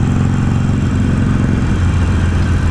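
A Harley-Davidson motorcycle engine runs steadily close by with a deep, throbbing low rumble. No one speaks.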